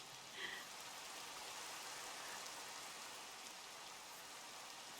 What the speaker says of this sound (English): Some added rain sound effects for your